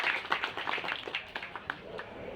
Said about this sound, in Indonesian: Tepuk tangan untuk Pak Reza dan Pak Sena.